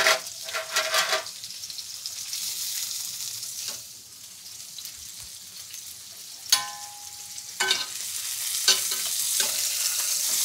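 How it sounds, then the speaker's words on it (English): A loin sears in a hot pan with a continuous, fairly loud sizzle, interrupted by a few sharp scrapes and clinks as the meat is moved and turned. "Searing the loin."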